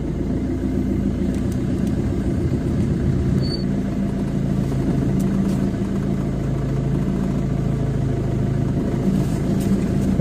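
A car engine idles steadily at close range while the car is being parked, a continuous low hum with only slight variation and no voices over it.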